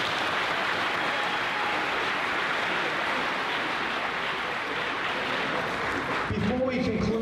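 Sustained applause from an audience at a middle school moving-up ceremony, a steady dense wash of clapping that fills the hall and fades out near the end.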